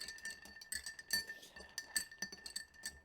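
Ice clinks against a glass as a scotch cocktail is stirred, a quiet, close series of irregular light clinks and rattles with no voices.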